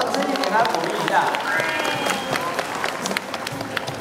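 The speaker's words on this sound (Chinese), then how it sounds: "掌声给他鼓励一下" An audience claps at a sea lion show in an ocean park, with a steady patter of applause, whistles and crowd noise while a presenter talks over it.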